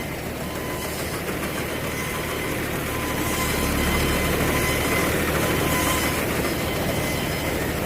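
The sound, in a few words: tyre-grip paddy harvester engine running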